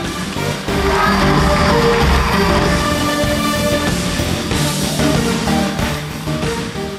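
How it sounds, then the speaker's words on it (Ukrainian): Audience applause and cheering at a live comedy concert parodying a band, a loud steady crowd roar with whoops and shouts that rises after the first half-second and holds for the rest. "Сеня Щуров, аплодисменти"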